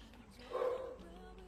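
A dog gives a short whimpering yelp, a single brief cry at moderate distance against a quiet indoor background.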